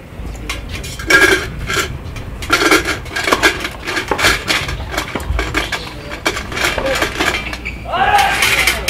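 Draw lots rattle and clatter as they are mixed in a container during the main-draw ceremony of the Cassis Open de Provence tennis tournament, irregular clicks and scrapes, fairly close, with someone talking intermittently over them.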